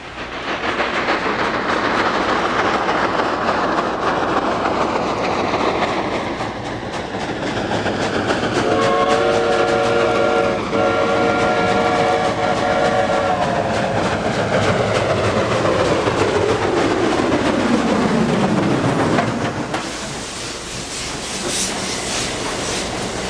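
A diesel-hauled produce train runs by close to the track, its loud rumbling and clattering wagons rising and holding for about twenty seconds, with a horn-like tone partway through and a falling pitch sweep as it passes.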